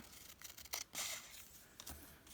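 Scissors cutting a sheet of paper in half at a craft table: a series of quiet, close snips and crisp paper rustles in uneven bursts, with no talking.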